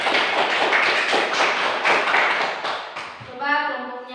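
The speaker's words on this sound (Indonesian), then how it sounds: "tepuk tangan untuk kelompoknya Alina" Classroom applause for a student group after a magnet experiment report, a dense patter of clapping from many hands lasting about three seconds, then fading as a voice begins to speak.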